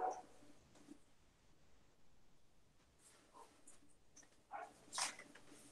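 Dogs bark and whimper in the background of a home setting, in sparse, faint bursts scattered across a quiet room, with a louder cluster near the end.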